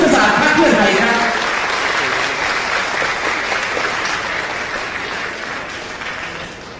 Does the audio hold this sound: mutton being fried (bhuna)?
no